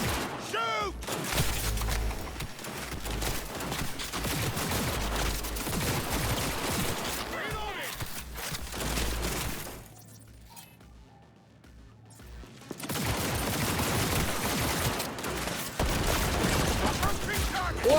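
Repeated gunfire bursts in the Cyberpunk 2077 video game, loud and dense shooting that fills most of the stretch, drops to a quieter lull partway through, then resumes heavily, with a voice occasionally speaking over it.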